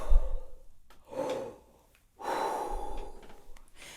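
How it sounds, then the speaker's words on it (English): A deep, quick breath drawn in, then a long, full exhale, done as a breathing exercise for horn players. Each breath is a soft, airy rush, close and clear, with no talking. "take a deep, quick breath into the bottom of your lungs"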